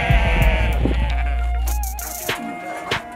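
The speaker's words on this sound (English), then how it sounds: "He just caught one of his sheep, which he will be selling to a customer." A sheep just caught by a Kazakh herder bleats loudly and close by in a few drawn-out cries, with faint background sounds and little talk.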